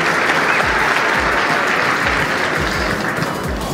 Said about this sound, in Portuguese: Uma salva de palmas pro Medina